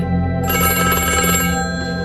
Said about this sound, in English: the phone rang, and I answered it